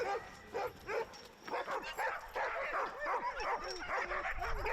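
Sled dogs bark, yip and whimper in an excited chorus before a run, close and continuous, with overlapping high whines and yelps building in intensity.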